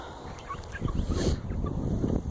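Chickens in a backyard chicken yard give short scattered clucks and calls over a steady breezy outdoor background, moderately close, with no talking.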